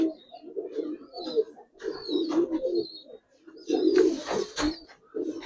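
Giribaz pigeons of silver and old-generation stock coo in soft, repeated throaty bursts close by, with brief rustles and a flutter-like noise between calls.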